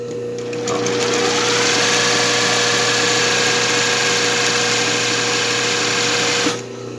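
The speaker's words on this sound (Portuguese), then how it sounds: "com um zigue-zague bem fininho, bem fechadinho, por cima dessa costura que eu fiz" A sewing machine runs steadily for several seconds, stitching a narrow, tight zigzag over straight seams for richelieu embroidery, its loud, close motor hum and rapid needle rhythm stopping abruptly near the end.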